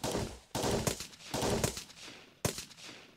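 Gunfire in the video game Remnants comes as four sharp, loud bursts spaced roughly half a second to a second apart, each falling away quickly into a brief gap.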